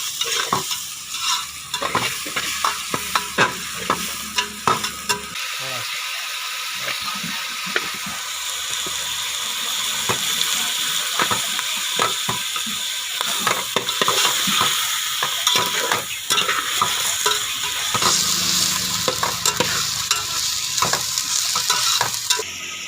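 Onions fry in a pan for a dhaba-style mutton dish, with a steady sizzle throughout and many sharp, close clicks and scrapes of a spoon stirring against the pan, and no talking.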